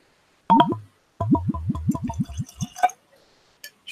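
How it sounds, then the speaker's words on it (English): A dram of Deanston whisky glugs from the bottle into a glass in a quick run of rhythmic, gurgling pulses. The pour is close and fairly loud and ends with a faint clink. "Just a wee pour, a wee dram."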